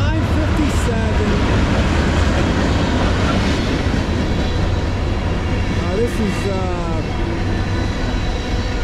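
A long CSX M406 freight train of intermodal well cars, led by ES44AC-H and GEVO locomotives, rumbles loudly and continuously past at close range with clickety-clack wheel noise and squeals, while people talk over it.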